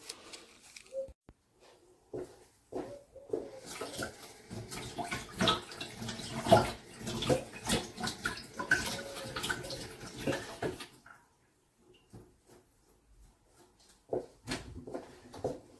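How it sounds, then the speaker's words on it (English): A peppermint tea bag is rinsed under running tap water, giving an uneven splashing and trickling that swells and fades over several seconds before stopping, then brief faint drips. "I'll give this like a little rinse and twist it to kind of release the flavour"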